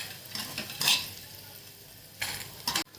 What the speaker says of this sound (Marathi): वडे छान असे भाजून घ्यायचे तेलावरती